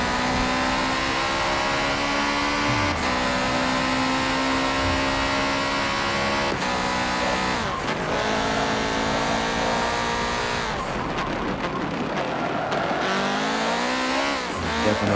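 Racing car engines in Forza Motorsport 7 during a Le Mans race roar continuously with rising and falling revs and occasional tire squeals, one engine growing louder as it approaches, with no talking.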